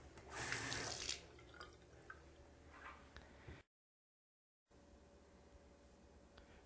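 Water runs from a tap into a cup in a short splashing burst, then trickles and drips quietly, with a brief silent gap before faint running resumes.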